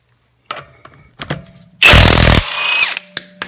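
A high-torque cordless impact wrench removing a nut: a few clicks and handling knocks, then one loud half-second burst of rapid hammering, then a brief whir and more clatter.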